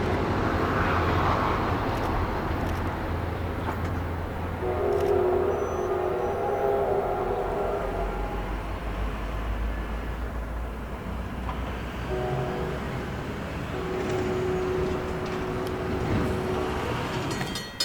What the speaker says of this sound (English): train 1180 passes through Gertson Plaza just before stopping at Ramsey Station